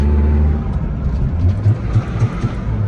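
A Toyota Starlet with a 4EFE engine and a 7AFE throttle body, still cold, idles close with a low rumble and short rhythmic blips of revving.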